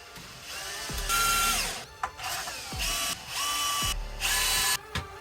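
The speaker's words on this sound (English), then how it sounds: "Because it's like drilling in the sheet metal." Power drill boring holes through a sheet metal radiator support in a garage workshop, several bursts of high whining spin with each pitch dropping as the bit breaks through, short pauses between holes, close and loud, no talking.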